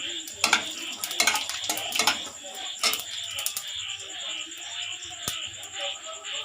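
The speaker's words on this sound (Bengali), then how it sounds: "কড়াইতে এবারে ফোড়নের জন্য তেজপাতা শুকনো লঙ্কা দিয়ে দিচ্ছি, গোটা জিরে দিয়ে দিচ্ছি" Bay leaf, dry red chilli and whole cumin are tempered in a wok for dal with potol, with repeated sharp metallic clinks of a spoon against the pan over a light, steady sizzle, close up and without talk.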